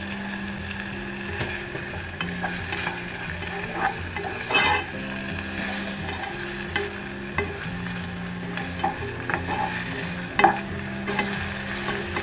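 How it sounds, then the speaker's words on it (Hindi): Chopped medium-sized onion sautéing in a pan for pizza sauce, a steady broadband sizzle with repeated scraping stirs and occasional clatters of the spoon, close and fairly loud, no voices. "मैं इसके अंदर चॉप्ड अनियन डाल रही हूँ। मैंने एक मीडियम साइज़ का अनियन लिया है जिसे मैंने अच्छे से चॉप कर लिया था। इसे भी मैं हल्का सौते कर लूँगी।"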